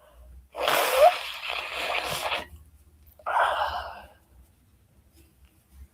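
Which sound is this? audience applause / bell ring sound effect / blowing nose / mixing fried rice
blowing nose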